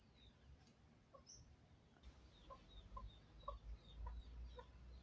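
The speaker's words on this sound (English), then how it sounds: "The chickens and the turkeys are coming into the frame and saying hi hello to you guys as well." Chickens and turkeys cluck softly in a farmyard, a series of short, spaced calls that pick up in the second half, faint and without speech.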